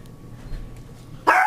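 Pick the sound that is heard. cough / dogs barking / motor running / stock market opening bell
dogs barking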